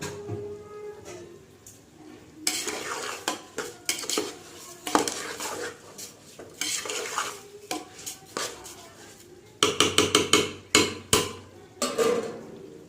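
A utensil stirs and scrapes oil in a metal pan over a high flame. Close clinks and knocks come in irregular bursts over a faint background, ending in a quick run of sharp taps.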